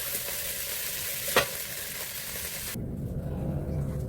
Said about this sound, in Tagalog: Haluin na natin ito dito.